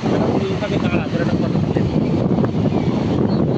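Wind buffets the microphone on a river bank, a steady loud rumbling rush with voices faintly mixed in.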